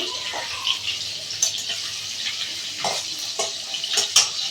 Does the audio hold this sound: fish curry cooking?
yes